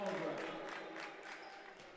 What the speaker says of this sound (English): Gresh is going to get an ovation here from the Triton crowd